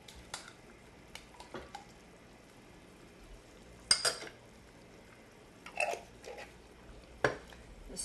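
A spoon scrapes and clinks against a pan while peach chutney is stirred into a honey roast chicken sauce, with soft, scattered taps over a quiet kitchen.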